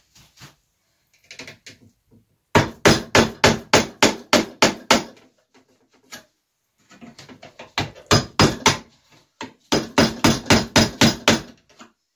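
Hammer blows ring out in two quick bursts of roughly ten strikes each, loud and close, knocking a barrel wedge out of an old axe handle.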